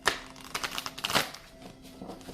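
Tarot cards are shuffled close up in a soft, irregular flurry of papery riffles and slides that lasts a couple of seconds, with no talking.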